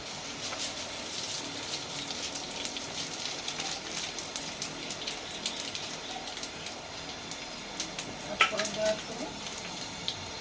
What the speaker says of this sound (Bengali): পাঁচ ফোড়ন শুকনো লঙ্কা দিয়ে দিচ্ছি ফোড়নে